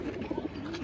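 Pigeons in a home pigeon loft keep up a steady run of low, rolling coos, several soft pulses close together over a constant murmur, fairly near and with no talk.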